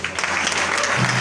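A crowd breaks into dense, continuous applause for Stéphane Kipré, president of the UNG, on his return after ten years away; a brief, full burst of clapping.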